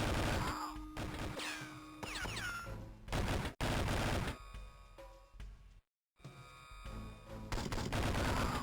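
Gunfire rattles in the video game 007: Nightfire, with loud bursts and rapid volleys broken by short gaps and one abrupt silent cut, mixed with electronic game effects.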